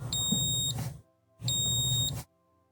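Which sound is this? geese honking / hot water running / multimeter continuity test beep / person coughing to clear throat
multimeter continuity test beep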